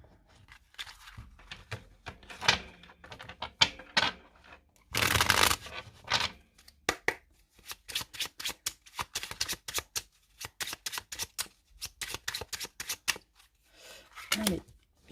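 A 32-card deck shuffled by hand in quick riffling bursts and crisp card flicks, close and clear, with brief pauses between runs and no talking.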